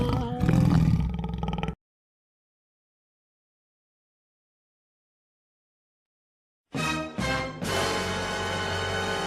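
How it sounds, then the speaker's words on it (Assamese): A cartoon tiger roars twice, loud and close: one burst at the start, then a long gap of silence, then a second drawn-out roar near the end, with no talk over it. "আৰে, এইটো বাঘৰ মাত পলা।"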